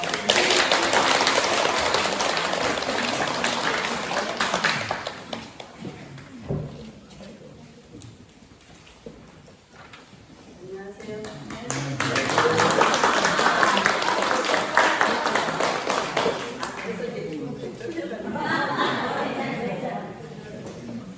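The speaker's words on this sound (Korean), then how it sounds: "첫 번째 안정해 주실 강수영 무시아 장로님을 박수로 맞이하겠습니다." Audience at an autumn parish retreat clapping to welcome a speaker, a sustained round of applause that fades, then swells again in a second burst, with voices in between.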